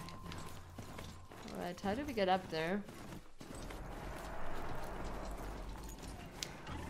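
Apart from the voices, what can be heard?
horse running in video game Horizon Zero Dawn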